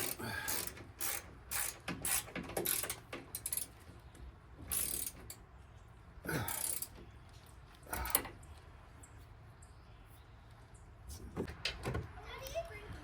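A ratchet tightens a bolt on KSP 2-4 inch lift control arms. Short, quiet bursts of clicking are heard at close range, mixed with faint clanks and people talking, including a child.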